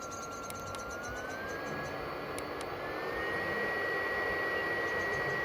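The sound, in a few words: BioLite CampStove 2 fan whirring after power on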